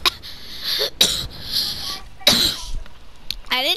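Several sharp, harsh coughs bursting out in quick succession in Fortnite, close up, with strained breathy choking sounds between them.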